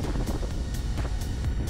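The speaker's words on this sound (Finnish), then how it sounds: "Vaikka navakka tuuli on paljon kovempaa kuin odotettiin." Strong wind roars steadily across the microphone aboard a small boat on open sea, with gusty rumbling and faint broad rushes like spray or waves.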